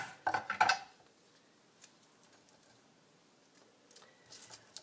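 A knife chops through lemongrass stalks, a short cluster of crisp taps and knocks right at the start, followed by near silence with a few faint, scattered clicks.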